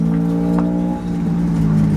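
A car idling and creeping at low speed while being parked at a car meet, its engine a steady low rumble with a slight dip midway, close by and with no talking.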